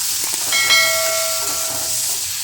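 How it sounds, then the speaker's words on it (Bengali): Malabar spinach fries in a pan with turmeric, coriander powder and salt for puishak chochori, producing a loud, steady hiss with a brief high whistling tone near the start. "এবার সব কিছু দিয়ে সবজিটা ভালো করে ভেজে নেব।"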